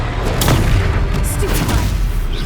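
The Confringo blasting spell explodes in the video game Hogwarts Legacy during a fight with a troll, a loud, dense booming blast that rumbles throughout with a voice shouting over it.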